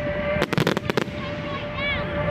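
A quick rapid series of firework bangs and crackles at the Guildford display in 2013, sharp bursts clustered in the first second, followed by a faint whistling tone, with crowd murmur in the background.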